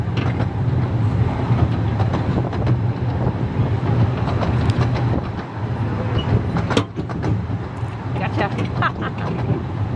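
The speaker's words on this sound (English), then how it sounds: "This is the steam train that we're passing." Rumbling rail noise from a steam train being passed in the Lake District, a loud, continuous low drone with occasional clattering bursts, heard from a moving vehicle as people talk.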